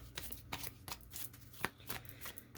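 Oracle cards being shuffled by hand, a quick run of crisp papery riffles and slaps repeating in close succession, near and fairly quiet with no talk.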